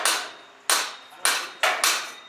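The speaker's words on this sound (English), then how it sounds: "Hammer in it, bro." Four sharp metallic hammer blows knocking a brand new car exhaust into place, evenly spaced and close, each strike ringing briefly before fading.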